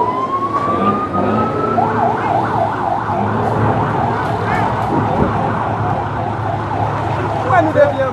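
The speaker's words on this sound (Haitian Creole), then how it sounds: "Et ça c'est camion pompier qui était sorti dans pompier sur le champ de Mars." A fire engine siren wails in a steady, repeating up-and-down cycle as the truck heads out to a blaze, loud and close over the rumble of road traffic.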